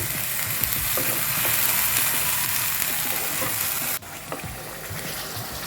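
Egg curry masala fries in a kadai, sizzling steadily and loudly with faint stirring scrapes. The sound briefly drops and softens near the end, then carries on.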